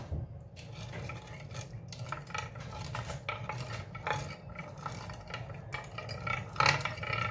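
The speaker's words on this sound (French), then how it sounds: "Je mélange bien, je fais fondre mon concentré de tomate." A spoon scrapes and clinks steadily around a metal saucepan, melting tomato paste into sauce, a continuous stirring rasp with small taps, no voices.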